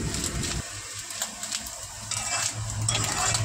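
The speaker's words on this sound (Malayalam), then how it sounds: "കടുക് തളിക്കുന്നതിൻ്റെ കൂടെ തേങ്ങ ചെറുതായിട്ടൊന്ന് മൂപ്പിച്ചെടുക്കുന്നതാണ് എരിശ്ശേരിയുടെ ഏറ്റവും വലിയ പ്രത്യേകത." Grated coconut and mustard seeds fry in hot oil for a Kerala erissery, giving a steady close sizzle and crackle with light stirring scrapes, louder toward the end.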